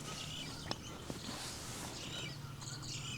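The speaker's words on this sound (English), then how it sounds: "And a lot of angry birds." Several birds call in an agitated chorus outdoors around a small tent on a rainy late-spring day, with short chirps and a few sharp calls over a steady background hiss of rain; no geese are clearly picked out.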